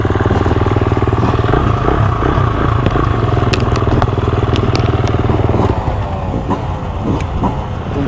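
Up close, a Honda CRF300L trail motorcycle engine pulls hard off-road at an enduro ride with a rapid, pulsing beat, clattering and crunching over rough ground, then drops to a lower, rougher idle near the end.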